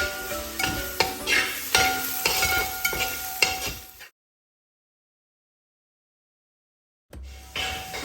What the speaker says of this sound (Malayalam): വെളിച്ചെണ്ണയിലേക്ക് ചോപ്പ് ചെയ്ത് വെച്ചിട്ടുള്ള സവാള ഇട്ട് കൊടുത്തിട്ടുണ്ട്.